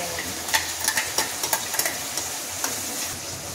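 Tomato gravy stirred into frying onions in a pan for a meal-maker curry: a soft, steady sizzle broken by short scraping strokes of a spoon, close up and quiet.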